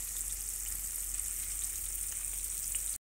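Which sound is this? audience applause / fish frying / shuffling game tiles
fish frying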